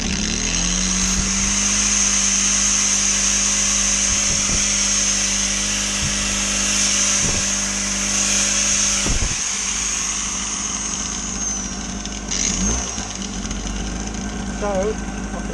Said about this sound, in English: So, I could obviously use a grinder. And obviously, it's working.